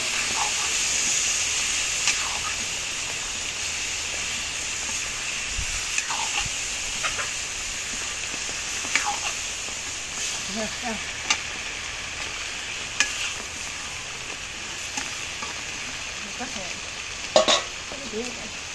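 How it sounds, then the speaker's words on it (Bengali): Green bananas tossed into sautéed spices and frying in a pan, a steady low sizzle with scattered stirring scrapes, while chickens cluck now and then in the background. "মশলাগুলো কষানো হয়েছে এখন কলাগুলো দিয়ে দিই"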